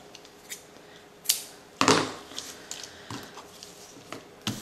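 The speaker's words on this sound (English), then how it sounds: "So I'm gonna cut off chunks, or at least cut this into sections." Scissors snip through ribbon for a mixed-media fabric art project, with several crisp cuts at uneven intervals, close and fairly quiet, and one louder snip near the middle.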